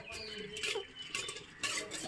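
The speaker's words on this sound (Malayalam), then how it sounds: "ഇനി ഇത് നമുക്ക് നല്ലോണം കട്ട കെട്ടാതെ ഇളക്കി കൊടുക്കാം." A spoon stirs a Pesaha milk mixture in a pot to keep lumps from forming, making faint, intermittent scraping clinks against the metal.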